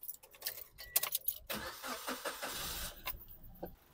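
A Suzuki Alto car engine cranks and catches after an oil and filter change, with a burst of starter noise giving way to the engine running nearby, preceded by some clattering handling sounds.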